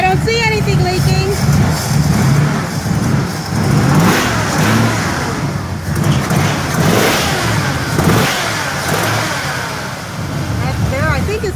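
A 1979 Chevrolet Camaro Z28 V8 runs close by just after its first start-up, idling loudly and revving in repeated surges, with people talking over it.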